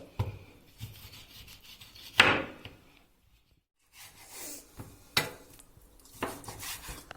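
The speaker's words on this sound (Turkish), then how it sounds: "Bu şekilde ince ince doğruyoruz. Sonra küp küp doğruyoruz." Knife cutting beef heart into thin strips and then cubes on a wooden board, giving several close rasping, rubbing strokes with short pauses between them.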